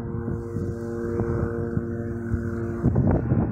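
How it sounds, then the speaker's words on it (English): A helicopter flies low over a rural homestead during maple-tapping season, making a loud, steady engine and rotor drone that persists throughout and swells slightly near the end, with no talking. "Got a helicopter flying really low over my eyes."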